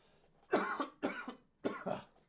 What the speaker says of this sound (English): One day this cough will go away, but it is not this day.